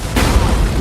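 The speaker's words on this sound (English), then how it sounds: "a spark from a fire accidentally hits a barrel of gasoline" A powerful gasoline barrel explosion in a film, a single loud, deep boom with a sudden rumbling burst that lingers briefly.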